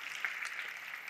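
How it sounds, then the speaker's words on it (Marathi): Applause for calligrapher Achyut Palav at a talk, a soft steady patter of clapping from a distant audience, faint and even throughout. "जोरदार टाळ्या होऊ देत अच्युतसाठी"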